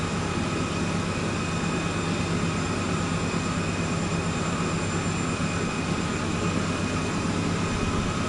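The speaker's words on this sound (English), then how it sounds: "Yes, it's a freight train." A freight train in a train-driving video game rumbles steadily and evenly throughout, a continuous mechanical drone with no voices over it.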